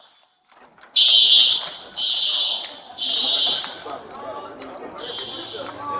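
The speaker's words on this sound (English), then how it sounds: "the fire alarm keeps going off" A loud, piercing hotel fire alarm blares in repeated long pulses, close by, with people talking faintly underneath.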